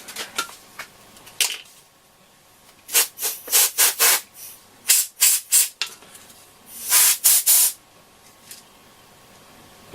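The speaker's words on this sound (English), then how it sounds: "Let's give the dust a bit of a squirt off." Short bursts of compressed-air spray blowing dust off an AOR AR2002 radio receiver, hissing in irregular clusters of quick squirts with brief gaps, close up and fairly loud.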